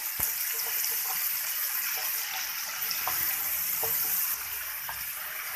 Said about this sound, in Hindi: 2 से 3 टेबल स्पून के करीब इसमें पानी डाला था ताकि मसाला बहुत अच्छे तरीके से भून जाए।